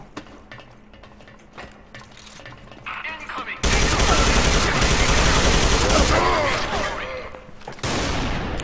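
Assault rifle fire in the online shooter Soldier Front 2, rapid dense bursts of automatic gunfire that swell loud and sustained, pause briefly, then resume, preceded by quieter mechanical clicks and shots.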